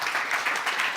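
Audience applause at a solar energy workshop, a short, steady wash of clapping from many hands at moderate volume with no voices over it.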